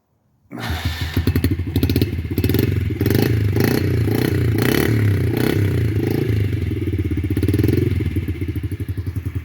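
A Yamaha TTR-50 dirt bike with a freshly rebuilt top end starts up and settles into a steady, close, loud idle. Its small single-cylinder engine chatters and clatters continuously, with a few light revs and no one speaking.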